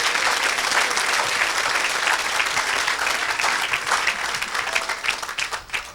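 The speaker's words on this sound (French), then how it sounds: "Clap for the Lord." A church congregation applauding for the Lord at an evangelistic service: loud, sustained, dense clapping from a large crowd that thins into scattered claps near the end.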